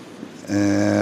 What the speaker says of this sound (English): EWS Class 37, pulling a rake of EWS coal hoppers, or coal wagons.